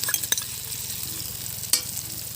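Ginger and garlic paste frying in oil with ground chili, cumin and coriander gives a steady close sizzle, broken by sharp scraping stirs of a spoon against the pan.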